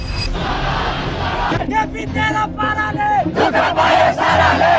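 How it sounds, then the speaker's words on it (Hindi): Large crowd of protesters gathered in Kathmandu, loud shouting and chanting voices mixed into a dense roar, continuous and close. "काठमांडू में हजारों लोगों की भीड़ इकट्ठी हुई थी प्रोटेस्ट करने के लिए"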